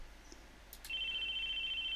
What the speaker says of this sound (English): The phone went on ringing stubbornly.